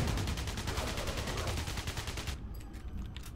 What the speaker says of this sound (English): I may have accidentally shot an explosive.